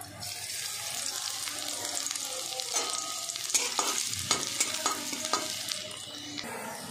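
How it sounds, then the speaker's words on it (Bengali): Chopped garlic fries in a spoonful of oil in a small wok, a moderate crackling sizzle with clinks and scrapes of stirring and a running-water sound in the background. "এখানে আমি কুচিয়ে রাখা রসুনটা একদম লাল করে ফ্রাই করে নেব।"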